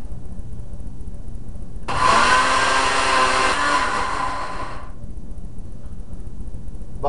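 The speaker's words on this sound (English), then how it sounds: "now we're going to have a lot of blender noise" A kitchen blender starts abruptly, whirs loud and steady for about three seconds, then cuts off into a quiet room.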